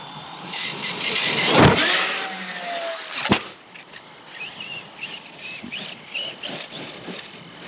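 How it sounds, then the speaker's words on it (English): A Traxxas Sledge 6s RC car speeds around a ramp, its tires rubbing against the body in whirring, scraping bursts, with sharp impacts and motor whine that rise and fall nearby. "You can hear them tires, they're hitting the body."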